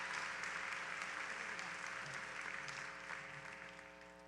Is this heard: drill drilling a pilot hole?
no